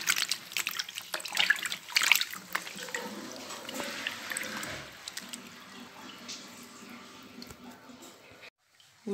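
Fresh strawberries lifted by hand out of a bowl of rinsing water, giving close, steady splashing and dripping trickles that carry on without speech before stopping abruptly near the end.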